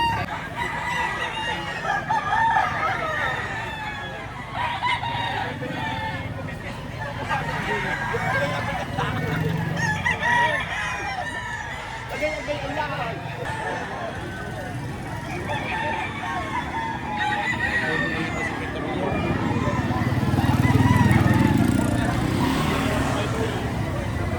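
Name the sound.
Sweater bloodline gamecock rooster crowing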